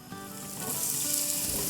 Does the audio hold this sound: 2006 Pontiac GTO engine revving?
no